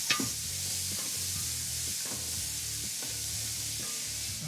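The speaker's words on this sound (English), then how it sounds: "we'll give that a stir around" Clam chowder ingredients stirred in a pot over a firehouse kitchen stove, with a steady sizzle underneath and repeated soft scraping strokes of the spoon, close and continuous, no talking.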